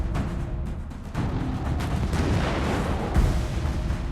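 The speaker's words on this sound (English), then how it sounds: "Reagan, Missouri, enemy fire incoming." Enemy naval gunfire in the Battleship video game sounds as heavy rumbling booms and blasts that swell into a sustained barrage, with a sharp, loud hit near the end and no voices.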